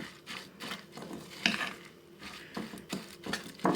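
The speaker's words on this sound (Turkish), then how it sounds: "İyice bir karıştıracağız." A spoon stirs oats into chocolate cookie dough in a bowl, giving repeated soft scraping and knocking strokes at close range, with a sharper clack now and then.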